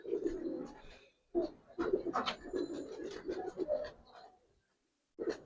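Giribaz pigeons coo close by in soft, rounded, repeated phrases, a few bursts separated by short pauses, with faint rustling in the background.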